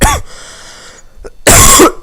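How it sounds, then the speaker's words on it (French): Two loud, close coughs from a person, the first short and sharp, the second longer and harsher after a brief pause, with no speech. "Excusez-moi de tousser."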